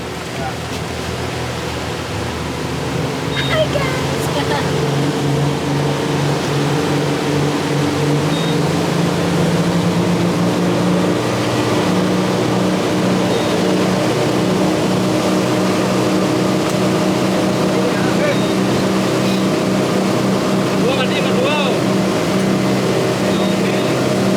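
A boat engine runs at sea, a steady motor drone with low rumbling tones over water and wind noise, holding fairly even as the throttle is eased open slowly.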